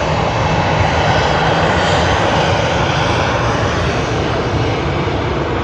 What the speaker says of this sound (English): Vietnam Airlines from Ho Chi Minh City on their beautiful A350-900.